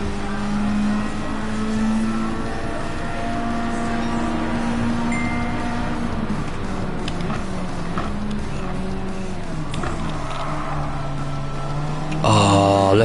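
Ford Focus racing in the Gran Turismo 7 video game, its engine a steady, loud drone that rises and falls in pitch with gear changes throughout, and a fresh revving surge near the end.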